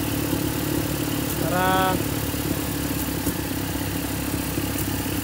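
A Toyota 4K engine idles steadily during idle-screw adjustment, a constant mid-pitched running drone with a brief rising whine partway through, while someone talks over it.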